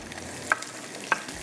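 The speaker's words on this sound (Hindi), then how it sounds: "हमारी ये प्याज जो है हम इसको यहाँ पर रखते हैं फ्राई करने के लिए" Onions frying in a pan, heard as a faint, steady low sizzle, punctuated by two small, sharp clinks a moment apart.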